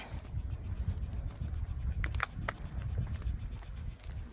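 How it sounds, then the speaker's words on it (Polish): Cicadas in summer heat at a seaside town in Dalmatia, Croatia, keep up a steady pulsing high buzz throughout, with a few brief sharper sounds near the middle and a low rumble underneath. "Cykady."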